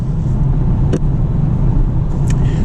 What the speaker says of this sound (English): we're going to drive that mountain road one more time